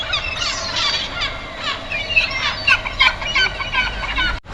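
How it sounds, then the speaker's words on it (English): A flock of seagulls squawks and cries in a busy, overlapping jumble while fighting over fish at a Brittany seaside town, harsh calls coming in quick bursts close by. "Don't feed the seagulls."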